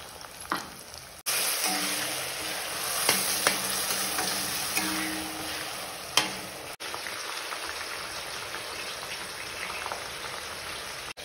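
Onion and tomato paste frying for chicken biryani, a dense, rain-like crackling sizzle with occasional stirring clinks and scrapes, heard up close and uninterrupted by speech.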